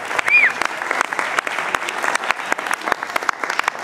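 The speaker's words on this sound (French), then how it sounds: "Mesdames, messieurs, applaudissements pour Faustino." Audience applause for a performer at a song-rewriting battle event, brisk clapping with distinct individual hand claps and a brief whistle near the start.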